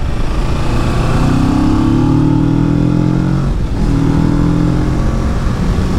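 Kawasaki Ninja 650 motorcycle riding a twisty mountain road in Vermont, its engine droning loud and steady with rising and falling revs through gear changes, wind rush close throughout.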